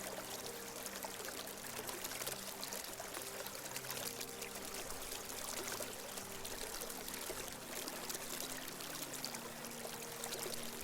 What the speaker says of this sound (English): See if you can keep your focus, attention only on the sound of the water.